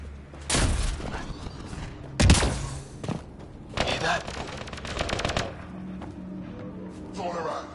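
Automatic weapons fire in a firefight in the video game Mass Effect: Andromeda, with several loud bursts of rapid gunfire and heavy thuds coming and going over a few seconds while voices shout underneath.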